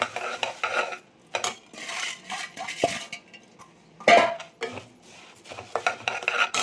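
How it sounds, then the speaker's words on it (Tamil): Puffed rice poured into hot jaggery syrup in a pan for a Karthigai Deepam sweet, giving a run of dry rustling, scraping and stirring bursts with light clinks of a utensil, close and fairly loud, no talk. "இதை நிறுத்திட்டு அங்கே இந்த பொரிய இதில் கொட்டிடுங்க"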